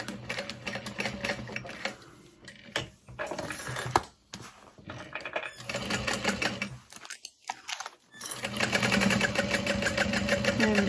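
A sewing machine back stitches while a fabric wallet is assembled. Its fast mechanical whirr runs in loud bursts with brief pauses between them, close by and with no voices.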